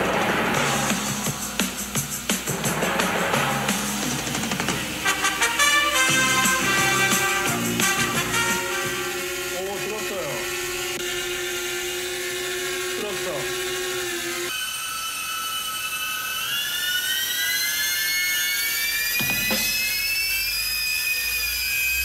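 A DJI Mavic 3 Pro drone spins up and lifts off carrying water bottles, its loud whining rotor buzz rising in pitch and holding steady close by, with mixed noise and bumps at the start.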